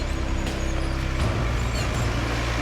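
A 4WD vehicle engine labors loudly and close by towing a trailer uphill, a deep rumble under dense roaring noise that holds steady throughout.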